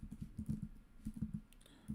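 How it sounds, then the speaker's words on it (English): Fingers tap a computer keyboard in quick bursts of close, soft clicks, two runs of keystrokes separated by a brief pause, quiet and without talk. "Sorry, my typing is off today."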